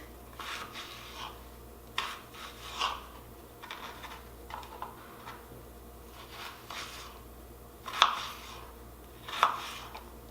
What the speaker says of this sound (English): we're just going to cut it in little dices